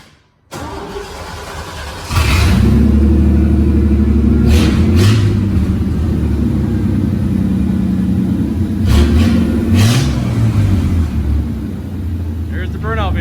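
A burnout car's engine cranks and catches, then idles roughly and revs in several loud blips and surges close by, with voices briefly audible over the engine.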